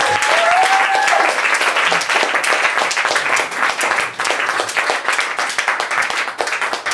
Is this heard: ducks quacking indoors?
no